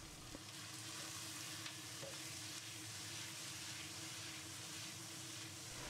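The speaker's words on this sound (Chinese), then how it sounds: "直到将豆角炒成这样虎皮状以后出锅" Green beans stir-fry in a wok with salt, without blanching or oil-frying, until blistered; a faint, steady sizzle and scraping continue throughout.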